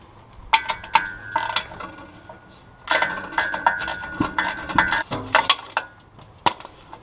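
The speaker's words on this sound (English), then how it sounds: "here's the 3rd bolt coming off" Metallic clinks, ratchet clicks and tool scrapes from removing catalytic converter bolts on a 2001 Honda Accord, coming in sharp bursts of work with short pauses, close and fairly loud.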